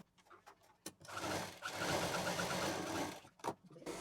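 A sewing machine runs in steady bursts as it stitches colourful patchwork strips onto a fabric shopping bag, the whirring stitching lasting about two seconds between short handling noises, close and clear with no talking.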